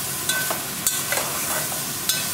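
Bottle gourd and shrimp are stirred in a frying pan over a steady sizzle, with soft scraping clicks of the spoon against the pan at irregular intervals and no talking.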